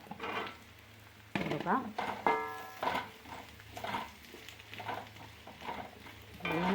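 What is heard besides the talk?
potatoes frying with onion and curry leaves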